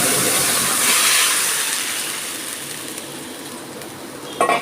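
Sour green mango and small fish broth is poured into a hot pan of mustard, salt and green chilli, giving a loud hiss and steamy sizzle that gradually fades, with a short clatter at the end.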